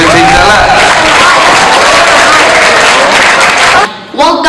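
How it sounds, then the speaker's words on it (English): Dense crowd applause with cheering at a school Apprentice Challenge event, loud and continuous for several seconds before breaking off abruptly, with a voice briefly coming through at the end. "Big round of applause"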